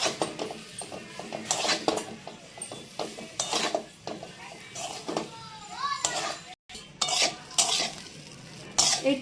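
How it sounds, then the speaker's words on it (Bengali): Food in a pan is stirred while small splashes of water are added. Repeated scraping and stirring strokes mix with a light sizzle, and someone speaks and children's voices sound in the background. "এরকম অল্প অল্প করে জল দিতে হবে আর নাড়াচাড়া করতে হবে"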